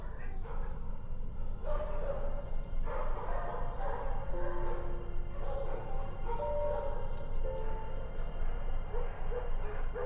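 Several dogs, greyhounds, bark and yip in a reverberant animal shelter in Spain, with overlapping barks and whimpers continuing throughout over a steady background din.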